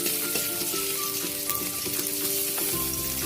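Garlic sizzling and frying in hot cooking oil in a pan for pinakbet, a steady close crackle with a few stirring clinks and no voices.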